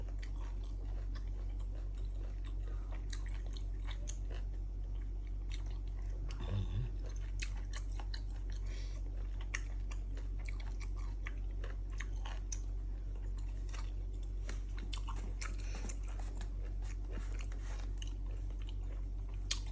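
Steady close-up chewing of grilled young beef, served half-cooked. Continuous moist, fleshy mastication and small crunches run throughout with no talking.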